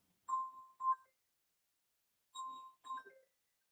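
A phone ringtone plays two short tonal bursts, a pause, then two more, ringing alone at moderate volume with no talk over it.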